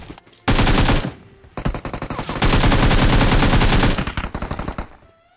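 Automatic gunfire from the PUBG Mobile battle game fills the scene, with long loud bursts of rapid shots broken by short gaps and a few quicker volleys near the end.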